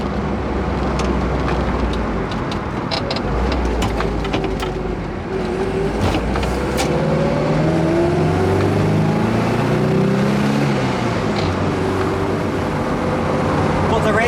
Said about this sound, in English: Always that underlying 4-cylinder roughness. It's never a particularly smooth engine.